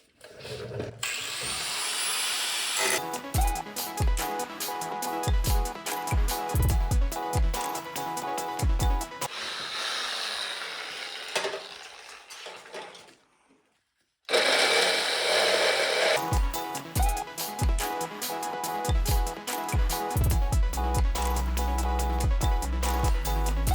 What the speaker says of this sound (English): And we're basically cutting it out so it'll fit through there.